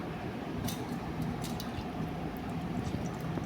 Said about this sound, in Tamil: நல்லா சாதத்தை கொஞ்சம் கொஞ்சமாக பிழிஞ்சு தண்ணியே இல்லாமல் ட்ரையாக பிழிஞ்சிட்டு